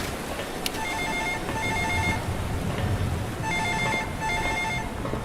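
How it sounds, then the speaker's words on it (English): A telephone rings inside the horror video game Stifled, two bursts of electronic trilling separated by a pause, moderately loud over a low rumbling ambient background, with no voices. "Phone."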